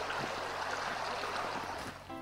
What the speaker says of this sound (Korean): 눈 쌓인 계곡의 물 흐르는 소리가 마음을 차분하게 해줍니다